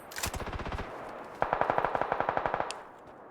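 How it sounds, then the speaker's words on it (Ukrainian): Two bursts of rapid automatic gunfire in the video game PUBG, the second louder and closer, with sharp repeated shots in quick rhythm and no talking. "Я чую стрільбу із з лівої сторони теж"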